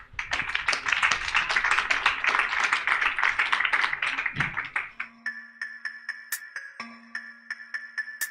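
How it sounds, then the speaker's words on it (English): Audience applause for a speaker at a tech conference in Accra, a dense burst of clapping for about five seconds that thins to a few scattered claps over a faint electronic tone. "So a round of applause for Veronica."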